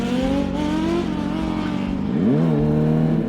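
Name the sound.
motorcycle with Moriwaki slip-on exhaust revving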